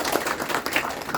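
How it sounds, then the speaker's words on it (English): Audience applause following a conference talk and question session, a steady wash of clapping from a roomful of people lasting about a second. "So claps for them."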